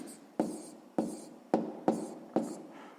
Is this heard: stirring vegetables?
no